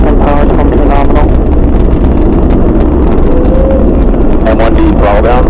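A SpaceX Falcon 9 carrying a crewed Dragon capsule roars during ascent, a loud, dense, wind-buffeted low rumble that fills the whole stretch under a commentator's voice.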